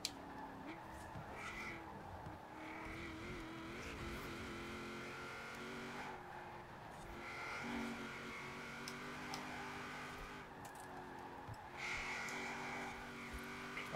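A 2015 Chevrolet Camaro Z/28 V8 in Forza Horizon 4 rises and falls through repeated revs and gear shifts as the car races, its engine note climbing in bursts, fairly faint, with occasional speech over it.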